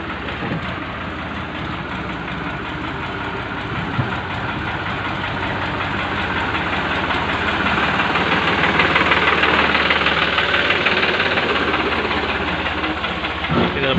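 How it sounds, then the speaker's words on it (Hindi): A tractor engine runs on a farm with cattle nearby, a steady low rumbling chug with a rhythmic knock that swells a little louder midway through, continuing without interruption for the whole stretch. "इधर आ गए ट्रैक्टर।"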